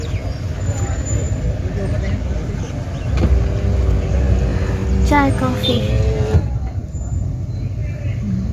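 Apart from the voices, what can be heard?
road traffic, cars and buses in snowy Murree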